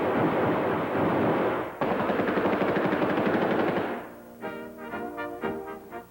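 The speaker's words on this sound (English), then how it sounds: "with your automatic weapons, you have greater firepower than a whole platoon of Napoleon's finest." Automatic weapons fire in a dense, sustained loud barrage of rapid shots from a 1944 wartime military newsreel, briefly breaking then resuming before giving way to sparser, ringing bursts near the end.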